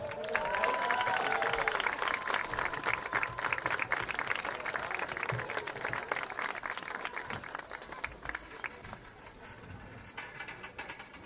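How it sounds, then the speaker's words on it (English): A crowd in the stands at a high school varsity football game applauds the homecoming court, a broad sustained roar of clapping that gradually thins and fades, with some crowd voices mixed in. "How about a round of applause for our entire homecoming corps?"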